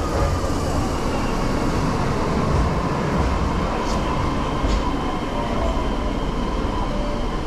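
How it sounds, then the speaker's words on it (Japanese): A train arriving at a station platform in Osaka rumbles steadily at close range, its low roar and rail noise constant throughout, with faint high squeals cutting in briefly. "1番線に到着の列車は難波方面天王寺行きです"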